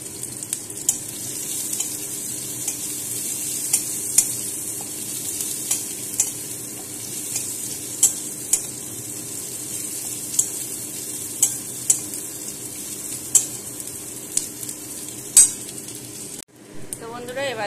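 Chopped onion frying in leftover oil from frying fish, a steady close sizzle with occasional clinks of a stirring spoon against the pan, heard alone for most of the clip.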